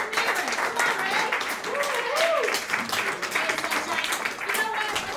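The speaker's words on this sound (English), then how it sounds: "Start clapping." Comedy club audience in a Broadway room breaking into sustained applause, thick, continuous clapping with scattered cheers, with a voice talking faintly underneath.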